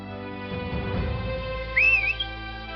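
A person whistles a short rising-and-falling note, clear and close, after a brief stretch of low rumble and a soft background tone.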